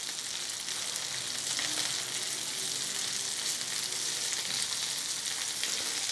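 Garlic chicken pieces frying in a pan, a dense continuous sizzle with steady crackle throughout, close and fairly loud, no talking.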